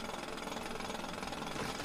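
A drill in Grand Theft Auto grinds steadily at close range, a dense rattling, hammering buzz that holds constant for about two seconds before a sharp bump at the end.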